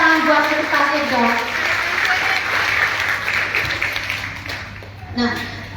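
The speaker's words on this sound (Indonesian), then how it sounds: "Tepuk tangan buat kita sudah." An audience applauds at a testimonial gathering, a steady wash of clapping filling the room while a voice speaks over it at the start and again as the applause fades near the end.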